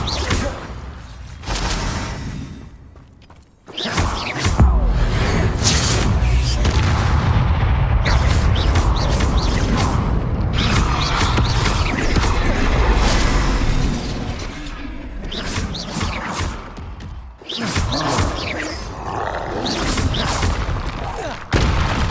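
Bombarda and Confringo blasting spells in Hogwarts Legacy gameplay, a dense, loud barrage of booms, whooshes and shattering impacts in rapid succession, with brief dips between bursts of combat.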